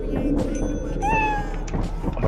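A cat meows inside the co-op video game Lethal Company, one clear rising meow in the middle over a busy bed of game sounds and thumps, with a fainter mew before it.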